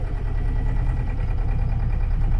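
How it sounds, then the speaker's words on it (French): A sailboat's inboard engine idles just after starting, a steady close chugging rumble with a regular fast pulse and no talk. "on vient de démarrer le moteur"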